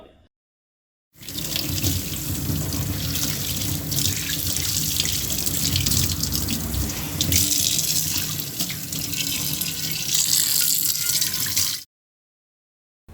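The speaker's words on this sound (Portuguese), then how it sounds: "A frigideira sendo lavada, tem um som mais metálico da água batendo nessa frigideira." Tap water runs steadily onto a frying pan being washed in a kitchen sink, a broad continuous splashing rush with a metallic edge that lasts about ten seconds, starting and stopping abruptly, with no talking.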